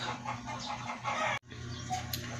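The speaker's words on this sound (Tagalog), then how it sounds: "Ang ingay ng manok." Busy chicken clucking and squawking over a steady background hum, with a brief dropout midway before the flock noise resumes.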